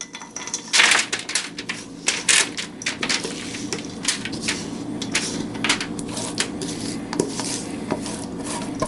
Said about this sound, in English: Now we're going to take the oat mixture and transfer it over to the baking sheet that we prepared earlier.